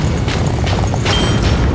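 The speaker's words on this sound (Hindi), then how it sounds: "ये असली फायरवर्क्स है, ना कि प्रॉप्स।" Real fireworks exploding outdoors, a loud, continuous rumbling boom that fills the whole moment without pause, with no talk over it.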